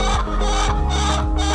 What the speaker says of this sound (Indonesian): ayam-ayam di kandang ini